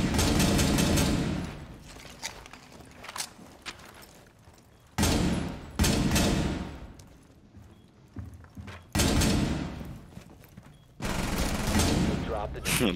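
Bursts of SMG gunfire in Rainbow Six Siege, loud rapid volleys of a few seconds each separated by quieter gaps, with someone talking excitedly between and over the shots.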